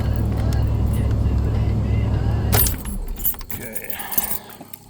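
Keys jangle and clink close by over a steady engine rumble, followed by a sharp rattle and softer handling noises, at an RV door.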